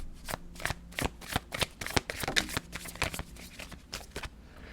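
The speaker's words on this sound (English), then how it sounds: "I do shuffle these cards before I come online." Tarot cards being shuffled by hand, a quick run of crisp riffling bursts and soft slaps repeating steadily, close and fairly quiet with no voices.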